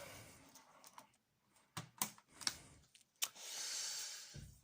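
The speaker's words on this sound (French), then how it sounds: "Voilà, donc on va enlever le clavier." Plastic clicks and snaps come from an HP i3 laptop as its keyboard is pried out, a handful of sharp, close taps separated by short silences, followed by a soft breathy rustle.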